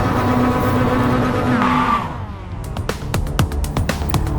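A Mazda MX-5 Cup race car at Laguna Seca in a video game, engine holding a steady buzzing note then dropping away, followed by a series of sharp clicks and brief pitch sweeps, close and fairly loud.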